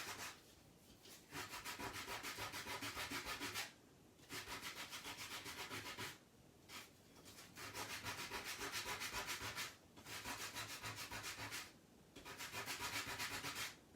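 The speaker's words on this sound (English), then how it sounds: "I'm just going to sand the edges even." Board edges are sanded even for a chalk craft project, with close, steady back-and-forth rasping strokes in long runs broken by brief pauses and no talking.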